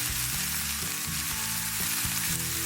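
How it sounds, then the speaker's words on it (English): Peppers and vegetables stir-fry in a hot pan for a tofu scramble, a dense steady sizzle close by with quick scraping and stirring taps woven through it. "Now everything is sizzling."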